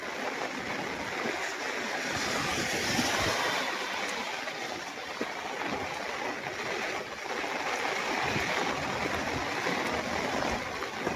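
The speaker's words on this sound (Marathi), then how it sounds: "मुसळधार पाऊस येऊन राहिला शेतकरी मित्रांनो." Heavy rain pours over farm fields, a dense, even hiss and roar that holds at a constant loud level from start to finish with no pauses.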